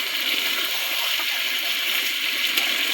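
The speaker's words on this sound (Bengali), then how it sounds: "পরিমাণ মতো জল দিয়ে দেবো।" Water poured into a cooking pot of stirred potatoes, a steady broadband rushing pour that runs continuously and fairly loud for the whole stretch, with no voices over it.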